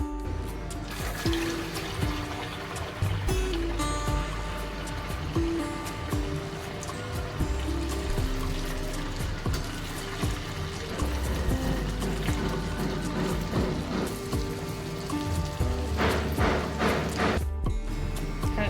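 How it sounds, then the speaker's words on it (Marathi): Pumpkin rice-flour vadas fry in hot oil with a continuous loud bubbling sizzle, a dense crackling wash that holds steady throughout. "आता तेल तापलेलं आहे आणि वडे पण थोडे थापून घेतलेले आहेत आता आपण तळायला घेणार आहोत"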